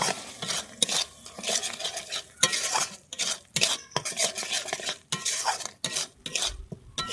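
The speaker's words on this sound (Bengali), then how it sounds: "দিয়ে আমি এবারে এটাকে আবার ভালোভাবে কষিয়ে নেব" A spatula stirs and scrapes spicy chicken gravy being reduced in a pan, with rhythmic clinks and scrapes over a low sizzle; no talking.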